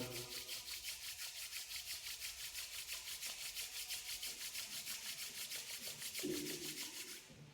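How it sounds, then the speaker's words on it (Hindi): Hands rubbed briskly together during a meditation exercise, a close, steady back-and-forth swishing friction repeating at an even rhythm for several seconds before slowing. "अपने हाथों को रगड़िए, रब करिएगा।"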